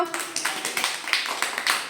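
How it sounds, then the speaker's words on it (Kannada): Children in a classroom clap in a quick, fairly even run of sharp claps, close and moderately loud, with no talking. "ಚಪ್ಪಾಳೆ ಹಾಕ್ರಿ ಎಲ್ಲರೂ"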